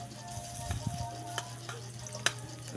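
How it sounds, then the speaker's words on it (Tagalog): Garlic sautéing in a pan for a mung bean dish, with a low sizzle under a steady hum and a few soft stirring scrapes and clinks spread across the moment. "Lutuin lang natin ng mabuti yung bawang para lumabas yung aroma ng ating ulam"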